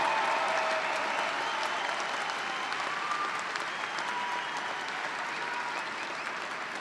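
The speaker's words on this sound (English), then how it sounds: "And a round of applause for our Bachelor of Science and Mechanical Engineering candidates." Applause from a large audience at a 2015 College of Engineering undergraduate graduation for Bachelor of Science in Mechanical Engineering candidates: a broad, continuous roar of clapping filling a big hall, starting strong and easing slightly over about seven seconds.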